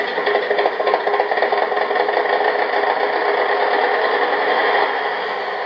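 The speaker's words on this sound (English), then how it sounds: "Start the engine." A loud, steady articulated loader engine running close by, with a continuous mechanical rattle and hum and no voices.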